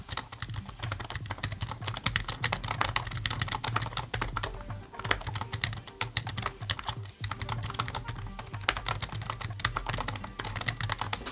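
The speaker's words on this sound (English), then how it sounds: "travel and click feedback is comparable to thin computers like Chromebooks" Steady, fast typing on a ProtoArc XK01 foldable full-size wireless Bluetooth keyboard with shallow, clicky keys, a close and continuous patter of key presses with brief pauses, no talking.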